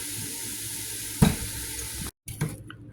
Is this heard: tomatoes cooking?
yes